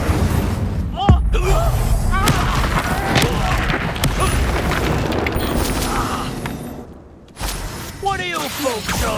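Fiery spell blasts from a duel in Hogwarts Legacy, several booming bursts and crackling impacts through a dense, busy battle mix with character voices calling out over the top.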